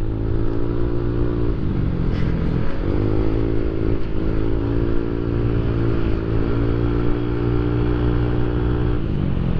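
Yamaha NMAX and Aerox motor scooter engines hum loudly and steadily up close as they ride, the pitch dipping and rising with small throttle changes.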